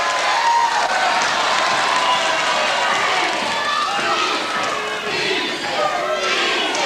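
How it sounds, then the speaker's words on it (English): A wrestling crowd at a tag-team match chants and roars continuously, dense and loud throughout, a steady wall of voices filling the hall. "The crowd shouting easy"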